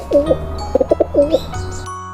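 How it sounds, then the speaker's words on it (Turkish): A pigeon coos close by and alone: two rolling coos with a quick burst of short pulsed notes between them, in an educational bird-learning setting. "Güvercin, mektup bile taşıyabilir,"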